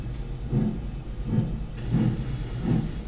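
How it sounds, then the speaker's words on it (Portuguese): A recording of the Maria Fumaça steam train leaving the station: loud, regular chuffs of steam about every two-thirds of a second over a continuous hissing, rumbling background. "a melhor gravação que eu achei de um trem saindo da estação, no Maria Fumaça"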